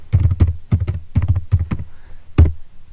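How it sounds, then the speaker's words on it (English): Bursts of quick keystrokes on a computer keyboard as a word is typed into a search box, close and crisp, in short clustered runs separated by brief pauses. "let's go over to top right hand side corner, the search box, and let's type in Mathematica"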